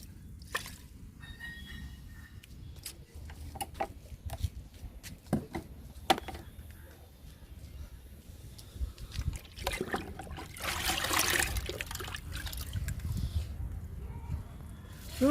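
Water pours and trickles from a watering can onto garden brinjal plants in uneven spurts, swelling into a steadier splashing stream near the end, with a voice speaking now and then.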